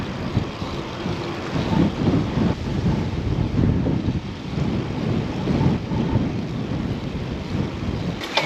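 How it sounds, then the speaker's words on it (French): Strong wind buffeting the microphone outdoors, a loud rumbling roar with gusty surges throughout, no voices. "Le vent de fou."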